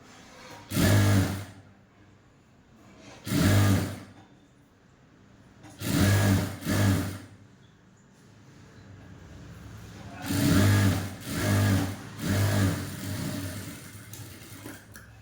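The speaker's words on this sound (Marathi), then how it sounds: "आता आपल्याला इथून एक शिलाई मारून घ्यायची आहे." A sewing machine stitching a straight seam along a 1.5-inch fabric strip, running in several short whirring bursts of about a second each with quiet pauses between, close by.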